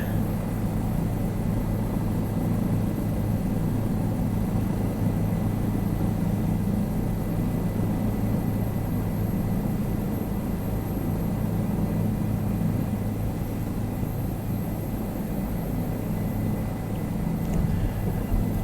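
A helicopter in a flight simulator game lifts off from JFK airport with a continuous low rotor and turbine drone, steady and unbroken throughout, with no voices.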